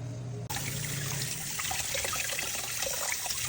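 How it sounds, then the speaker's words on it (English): Meat being washed under running water from a kitchen tap, a steady close hiss of flowing water starting abruptly and continuing with small splashes. "Then I'm going to wash it."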